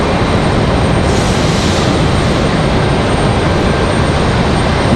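Large airliner jet engines roaring at Raleigh-Durham airport, a loud, dense, continuous broadband rumble and hiss that holds steady for the whole stretch with no voices.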